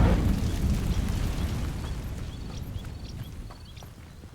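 Incendio fire spell setting dry vines alight in Hogwarts Legacy: a loud whooshing burst of flame at the start that settles into a rumbling, crackling burn slowly fading over a few seconds.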